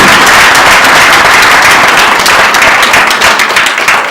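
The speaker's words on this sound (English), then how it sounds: "Come on, more round of applause." An audience applauds a guest speaker at a 2016 event, loud, dense clapping that continues steadily for several seconds and thins slightly toward the end.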